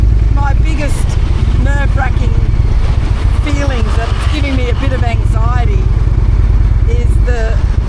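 A big, heavy motorcycle engine drones steadily throughout while riding, loud and continuous, with a person talking over it the whole time.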